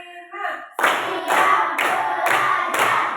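Group of people clapping a counted rhythm together, a brief voice at the start followed by five steady bursts of unison claps, close and clear.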